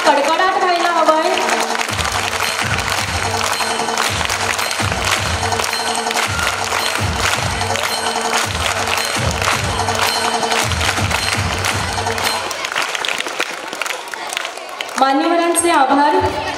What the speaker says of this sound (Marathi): मला वाटतं टाळ्यांचा कडकडाट व्हायला हवाय